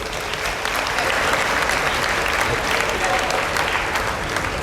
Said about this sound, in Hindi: तालियां होनी चाहिए भाई।